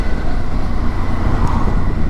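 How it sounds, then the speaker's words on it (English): Loud, steady roar of road traffic with cars heading to a car boot sale, a continuous broadband rumble heard from close by, likely while riding a Suzuki V-Strom 650 motorcycle. "Car boot traffic."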